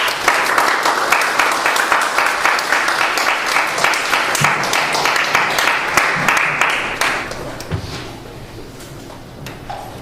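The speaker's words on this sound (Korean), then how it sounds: "큰 박수로 환영하도록 하겠습니다" A church youth congregation applauds loudly before a sermon, with dense, steady clapping that gradually thins out and fades toward the end.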